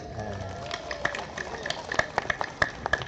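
An audience at a public speaking contest breaks into scattered claps that grow denser and sharper toward the end, with voices audible early on.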